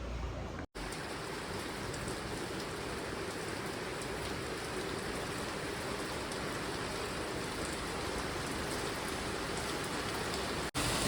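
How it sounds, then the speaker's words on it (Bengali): Heavy rain pours down in a dense, continuous roar of drops hitting surfaces. It is loud and unbroken apart from a brief dropout near the start, with no voices. "দেখুন কিরকম বৃষ্টি হচ্ছে, দারুণ বৃষ্টি হচ্ছে,"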